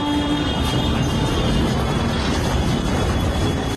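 A train rolls steadily along the rails, a loud continuous rumble and rattle close by, with a faint tonal whine above it.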